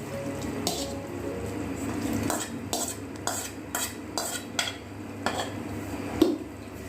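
A pot of mutton masala with yogurt mixed in gets scraped and clinked by a metal utensil, with a series of sharp, close metallic taps and a final clank as the lid is set on, over a faint background hiss.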